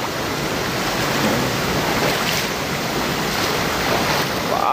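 A river flows strongly at a crossing on a mountain traverse: a steady, loud, close rush of water with a wind-like hiss that continues without a break.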